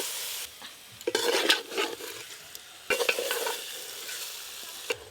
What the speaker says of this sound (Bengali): আবার একটু ভালো করে কষে নেব।